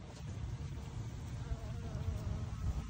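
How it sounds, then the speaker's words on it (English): A bee buzzes close by near sticky slumgum left from melted honeybee brood wax, a faint, steady hum that carries on alone without talk. "As you can notice, there's a bee already."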